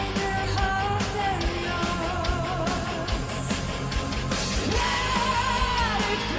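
A singer yells hard during a live metal performance at Wacken 2013, the scream rising over loud dense band music and crowd.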